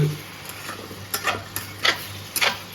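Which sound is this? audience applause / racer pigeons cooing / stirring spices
stirring spices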